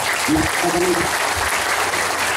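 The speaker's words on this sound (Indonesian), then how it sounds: "Tepuk tangan untuk Anda semuanya." Crowd applause for parents at a parenting session held at an Islamic boarding school in Palembang, a steady wash of clapping throughout with a voice heard briefly over it.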